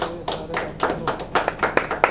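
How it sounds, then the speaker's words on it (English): A small crowd claps for the cast and crew at the trailer launch of the medical web series Starting Troubles 2. Uneven, sharp hand claps sound close and fairly loud, with a few people clapping out of sync. "Can we have a huge round of applause"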